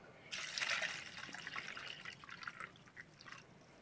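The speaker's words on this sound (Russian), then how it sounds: "Залью литром воды." Water is poured from a container into a pot of viburnum berries in a home kitchen, a faint splashing trickle that rises quickly and then thins to a soft patter.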